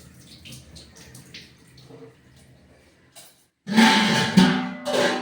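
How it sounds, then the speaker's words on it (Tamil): Water poured into a bowl to wash cooking ingredients in a home kitchen: a quiet, sparse patch of drips and small splashes, then a sudden loud gush of pouring and sloshing water near the end. "தண்ணி ஊற்றி நல்லா கழுவிட்டால் பாருங்க, நல்லா கழுவிட்டா."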